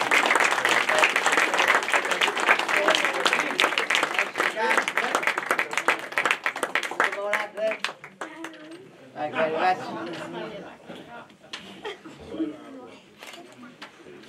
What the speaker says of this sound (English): Have a good round of applause.